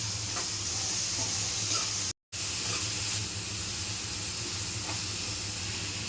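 Carrot, capsicum and tomato stir-fry in a pan, making a continuous close hiss and sizzle broken only by a momentary gap, with no speech.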